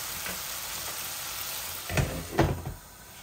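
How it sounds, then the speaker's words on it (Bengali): Carrot and courgette frying in a pan make a soft, steady sizzle, with two louder bursts of stirring or clatter near the end and no talking. "ভালো করে সবজিগুলা ভাজা হয়ে যাক"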